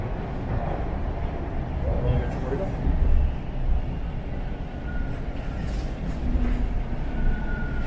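A Toronto subway train arriving at Royal York Station rumbles with a heavy low roar and rattle, its noise swelling and easing as it moves, with faint voices in the background.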